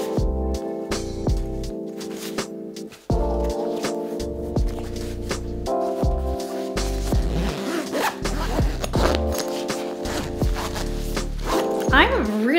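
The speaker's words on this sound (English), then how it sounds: "this zipper feels super high quality" The zipper on a travel bag being packed is drawn along in repeated long, rasping pulls and short tugs, loud and close, with someone talking throughout over a low steady hum.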